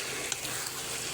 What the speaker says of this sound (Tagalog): Tapos halu-haluin natin mga kaulam para yung lasa niya sumiksik na sa loob ng